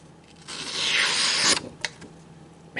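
A CRKT Hissatsu fixed blade knife slices through heavy-duty stock paper in one loud, smooth, hissing stroke lasting about a second, followed by a few quieter rustles and scrapes of the paper.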